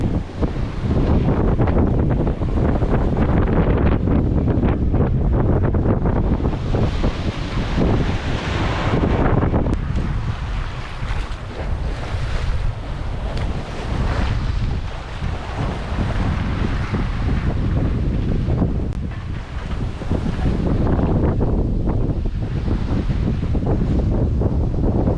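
Big beam-reach side waves and strong wind on a 34-foot Hallberg sailboat sailing the Atlantic toward Porto Santo, loud roaring wind noise with surging wash of water against the hull rising and falling in long swells.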